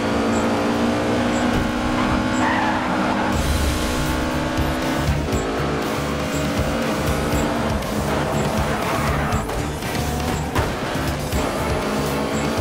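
A racing car in the GRID 2 video game during an elimination race: a loud, continuous engine roar with rising and falling revs and repeated tire squeals, steady throughout without talk.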